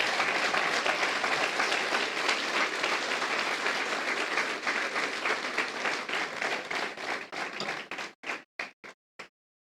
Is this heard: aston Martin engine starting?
no